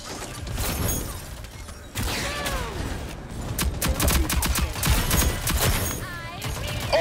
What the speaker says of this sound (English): There's three people shooting at me.